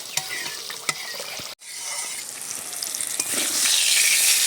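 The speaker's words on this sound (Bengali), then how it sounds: "এপাশে পটল ভাজাগুলো উল্টে ভালো করে সব দিকটা ভালোভাবে ভেজে নেব" Pointed gourd (potol) slices fry in a pan with a loud, steady crackle and sizzle, broken by a brief clatter as pieces are turned, then the frying grows denser.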